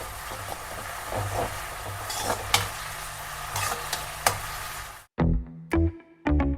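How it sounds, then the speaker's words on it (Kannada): Food fries in a pan with a constant loud sizzle and scattered sharp scraping clicks of stirring for about five seconds, then cuts to sparse, separate knocks and thuds. "ಆ್ಯಂಡ್ ಇವಾಗ ಚೆನ್ನಾಗಿ ಇದು ಫ್ರೈ ಆಗಬೇಕು."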